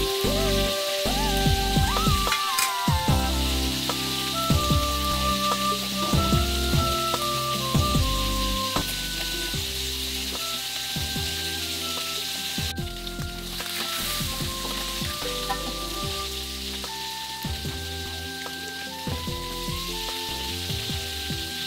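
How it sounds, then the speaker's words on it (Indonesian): Fish fries in hot oil with a constant, crackling sizzle that runs throughout, while background music with steady tones and beats plays alongside it. "Ikannya akan saya goreng sampai dia agak garing sedikit ya teman-teman."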